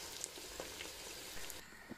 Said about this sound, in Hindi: दूध उबल रहा है, कस्टर्ड डालूंगी इसमें।